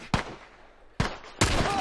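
Three sharp rifle shots in The Last of Us ring out at uneven intervals, each a loud close crack followed by a short rumbling tail, the last one sustained with lingering noise.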